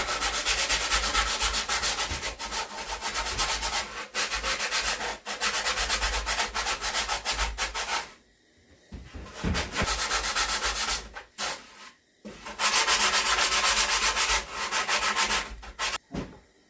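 Sandpaper rubs steadily over a muskie fish mount, working around its flat-topped head, with long continuous stretches of scratchy sanding broken by two short pauses; close and fairly loud, no voices.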